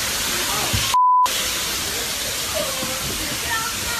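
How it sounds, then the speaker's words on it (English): Flood water pours down the outside of a subway carriage in a steady, loud broadband rush like a waterfall, continuous throughout, with a brief electronic beep partway in. "an insane moment of a waterfall showered down the outside of a subway carriage before rushing inside as the doors opened"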